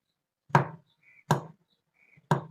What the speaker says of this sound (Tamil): இப்போ இந்த சாக்லேட் கரையிறதுக்காக மெலிசாக இதை மாதிரி நறுக்கிப்போம்